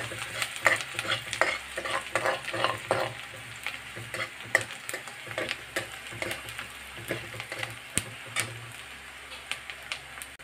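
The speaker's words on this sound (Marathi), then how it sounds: "मी कांदा कढई ठेवलेली आहे, तेल कांदा टाकलेला आहे त्याच्यात" Steady sizzling of onions frying in oil in a wok, with repeated scraping and stirring clicks from a utensil against the pan, close and continuous.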